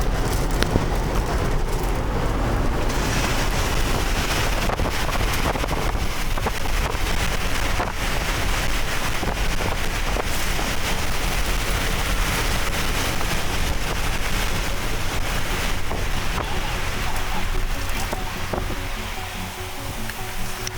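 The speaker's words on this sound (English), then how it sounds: "Extremely violent tornado!" Violent tornado wind near Gary, South Dakota roars in a constant loud broadband rush, with heavy buffeting against the microphone throughout and no voices.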